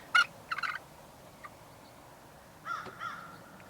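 A few short bird calls ring out outdoors, faint and somewhat distant, with quiet gaps between them.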